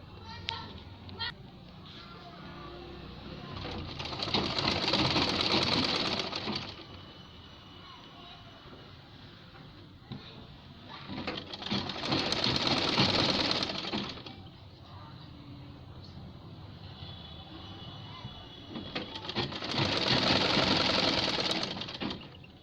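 An electric sewing machine stitches gloves in three sustained bursts of a few seconds each, separated by pauses, with children and other voices faintly audible in the room.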